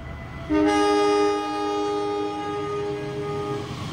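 KA Progo economy train at Karanganyar station, Indonesia, sounding a loud sustained horn blast near the listener, followed by a softer held tone over a steady rail rumble.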